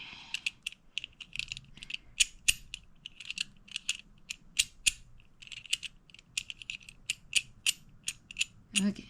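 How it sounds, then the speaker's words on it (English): Metal pieces of a Nutcase puzzle, including nuts and a ball, are shifted and repositioned, making a string of irregular, crisp metallic clicks and light rattles close by, with short pauses between them. "now I'm going to move a little more this ball close to this head to reposition this nuts"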